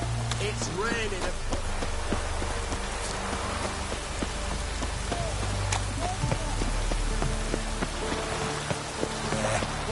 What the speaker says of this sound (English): Damn. It's raining.